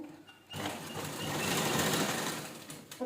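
A sewing machine runs in one steady close burst, its needle whirring fast as it stitches the side seam of a towel bag made from an old shirt, starting after a brief quiet moment.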